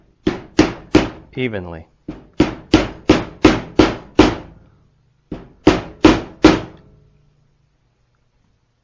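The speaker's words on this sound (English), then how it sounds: "taking a 1-inch PVC pipe and a rubber mallet, just seat that" Rubber mallet tapping a 1-inch PVC pipe to seat a part during small engine reassembly: a run of loud, evenly spaced close thunks in two bursts, with a brief voice between them.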